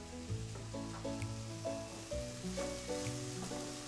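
Plenty of onion fries in a pan for a leek quiche filling, making a soft, steady sizzle at low volume, faintly threaded with tonal background sounds.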